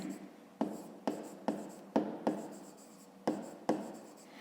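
A pen writes on paper while working a 5th-grade math exercise, giving quiet scratching strokes close up in a steady rhythm of sharp onsets, about eight strokes with short pauses between them.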